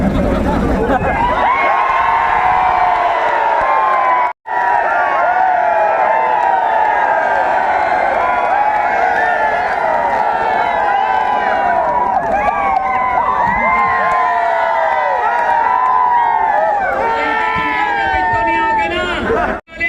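A large crowd at a political rally shouts and cheers continuously, a dense roar of many voices with whoops and yells, loud and sustained with a brief break partway through.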